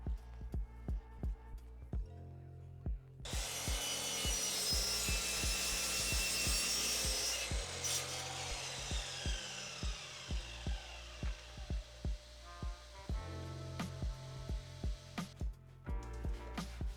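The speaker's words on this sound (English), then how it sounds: "I cut away that part with a 45-degree cut on the miter saw." A miter saw spins up and slices a 45-degree cut through wood, a loud sustained whining cut lasting several seconds, framed by repeated sharp knocks and clatter before and after.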